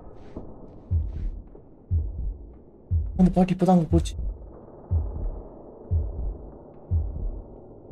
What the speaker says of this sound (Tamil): இந்த ஹார்ட் பீட் மாதிரி ஒரு சவுண்ட் கேட்குது